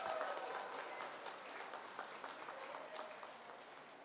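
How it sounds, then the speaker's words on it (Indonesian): Faint, distant applause fills a school sports carnival prize-giving as the football trophy winners are honoured. The clapping is a continuous wash, slightly fuller at the start and steady after. "Berikan tepukan yang gemuruh."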